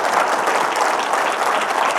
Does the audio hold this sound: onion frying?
no